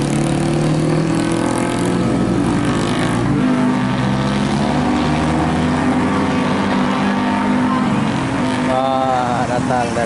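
A bus engine laboring up a steep hill gives a loud, steady, close drone that holds throughout, with a rising whine toward the end.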